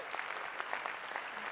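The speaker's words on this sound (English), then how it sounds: "And let's give her one more round of applause." Steady applause from a conference audience of professionals, dense continuous clapping at moderate volume with no voices over it.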